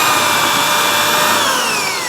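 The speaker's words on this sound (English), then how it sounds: "So I'm going to drill this hole." A handheld power drill in forward bores a hole, giving a loud steady high-pitched whine with a slight downward shift in pitch under load, close and continuous with no talk.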